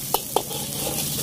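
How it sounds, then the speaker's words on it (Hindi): Vegetables for manchow soup are stir-fried in a hot pan, giving a steady close sizzle with two quick sharp clinks from the utensil near the start. "लगभग इन सारी चीजों को एक मिनट तक स्टिर फ्राई करना है।"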